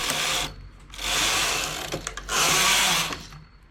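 A knitting machine carriage sweeps back and forth across the needle bed, knitting striped rows of a summer top in two loud whirring, rattling passes separated by brief pauses, close up and with no talk.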